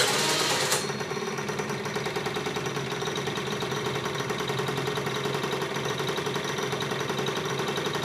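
A Roughhouse 50cc 2-stroke scooter engine running, a steady buzzing, rattling idle that stays loud and close after a brief louder burst at the start.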